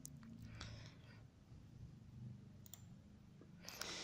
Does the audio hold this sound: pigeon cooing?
no